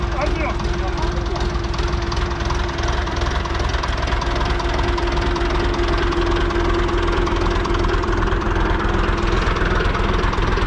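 A Hattat 240 tractor engine idles with a steady low, knocking rumble throughout, loud and close, with a persistent hum.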